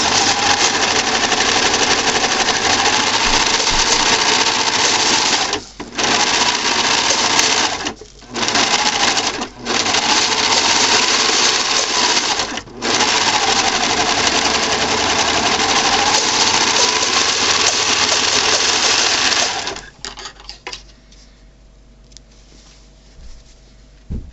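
An electric sewing machine stitches close along the fabric edge of a reusable snack bag, a loud, fast, continuous whirring run broken by several short pauses before it stops.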